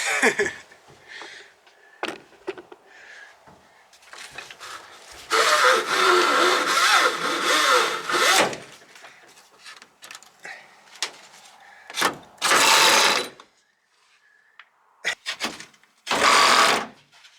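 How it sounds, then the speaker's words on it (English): A seatbelt retractor inside a motovan being fitted out reels the belt back in with three quick whirring zips, the longest lasting about three seconds, separated by faint clicks and handling noises. "I love that sound of the roller like sucking it back in."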